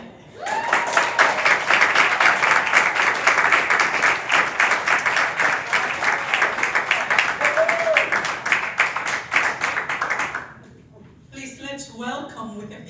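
An audience at a storytelling performance claps steadily and warmly for about ten seconds, a dense even patter of many hands that stops abruptly, followed by a voice speaking.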